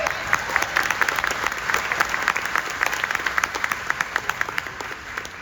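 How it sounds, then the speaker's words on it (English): A Comic-Con panel audience gives a sustained round of dense applause, a crowd clapping steadily and loudly throughout with no talking over it. "Yo, better clap for that."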